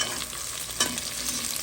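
Onions fry in a pan for a swordfish and eggplant massalé, giving a steady, close sizzle with a brief stirring scrape partway through, no voices.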